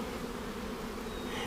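Honey bees buzz steadily inside an open overwintered hive, a dense continuous hum with no pauses, moderately loud and close.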